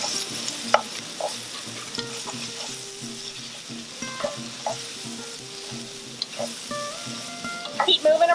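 Green beans sizzle steadily in a frying pan and are stirred around in it, with a soft continuous fry and occasional scraping, while a person talks over the cooking.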